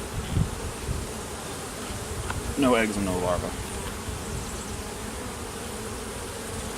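Honey bees buzz in an open queenless hive during a spring inspection, a steady close droning hum that continues throughout, with a person speaking briefly over it.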